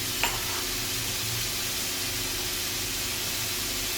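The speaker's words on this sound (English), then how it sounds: "So I'm adding in some chopped onions, some chopped pimento peppers, because why not?" Chopped onions, pimento peppers and jalapenos sizzling steadily in a hot pan while Durban-style spicy chicken is cooked, giving a continuous, even frying hiss with no talking.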